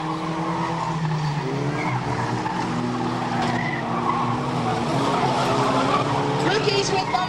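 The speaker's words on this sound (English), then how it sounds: "Superb spin there from LG on January 181." A race car spins out at a raceway with sustained loud tire squeal and skidding over a revving engine, while a commentator talks over the whole stretch.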